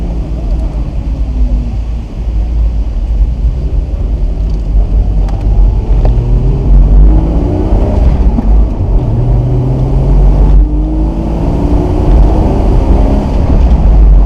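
A Porsche Boxster mid-engine car drives and accelerates, its engine droning loud and steady with rising pitch sweeps through gear changes, while someone talks over the cabin noise.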